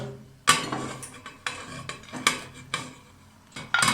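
Clinks and scrapes of a utensil against a metal pot as grated carrots go in, several sharp taps spaced irregularly, close by with no talking.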